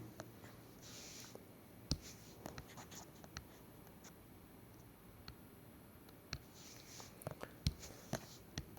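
Marker writing names onto a board during a geometry lesson: quiet scattered taps and squeaky strokes, soft and close, with a few sharper ticks and no talk.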